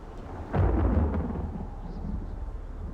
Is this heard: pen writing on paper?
no